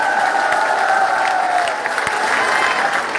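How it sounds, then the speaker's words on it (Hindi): A crowd at a gathering at Dev Dham in Harwada gives loud, steady applause to welcome a guest. The clapping is dense and close, with a sustained tone running underneath. "जोरदार तालियां बजाकर इनका स्वागत करो।"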